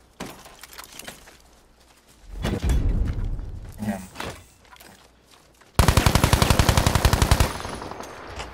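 Rapid machine gun fire in the Battlefield V Firestorm mode, a loud, evenly spaced burst of shots close by, following a stretch of rumbling vehicle noise and clatter.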